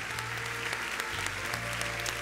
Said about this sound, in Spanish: Dale una aplauso al Señor.